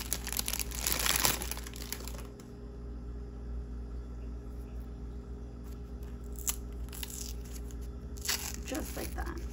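Plastic packaging crinkles as it is peeled off a milestone cake, with a loud burst of crackling near the start and softer rustles later over a steady low background hum.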